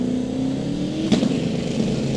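A small block Camaro drag racing car accelerates down the strip at a drag racing event, its engine a steady loud roar that rises briefly in the middle.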